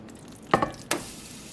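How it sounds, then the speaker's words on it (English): Brief crackling sizzle bursts from food cooking in tin foil, two short hissing pops in close succession, near and fairly loud, with no talking. "You want that little bit of sizzle there. You hear it sizzling."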